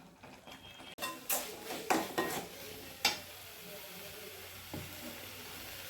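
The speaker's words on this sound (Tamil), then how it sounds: "நல்லா எண்ணெய் திரண்ட வர வரைக்கும் வதங்கட்டும்." Tomato, onion and green chili sautéing in oil for a cauliflower gravy: a handful of close spoon scrapes and taps in the first few seconds, then a faint, quiet sizzle.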